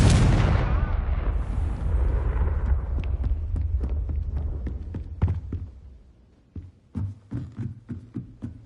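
Confringo fire spell blast in Hogwarts Legacy: a loud, deep explosive burst at the start that rolls off into a long rumbling decay, followed by scattered sharp crackles and small impacts, no talking.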